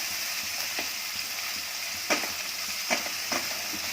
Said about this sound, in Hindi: इसको हल्का गुलाबी होने तक भूनेंगे